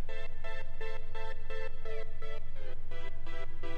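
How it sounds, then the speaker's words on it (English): Zippery synthesizer notes pulse in a fast, regular pattern of short buzzy bursts over a steady low drone, alone without speech. "I also added some zippery synths because I like that noise."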